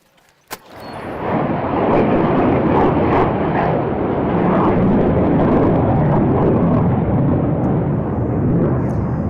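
Aircraft on the ramp at Edwards Air Force Base: after a sharp click, a loud, continuous jet roar swells up and holds steady, close and overpowering, with no talk.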